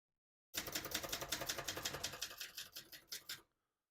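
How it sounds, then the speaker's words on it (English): Rapid typing on a 1971 Brother Opus-210 vintage portable typewriter, a steady stream of crisp metallic keystrikes at a quick even rhythm, close and clear for about three seconds with no talking. "As you can see, all the keys type nice and none of them skip or stick."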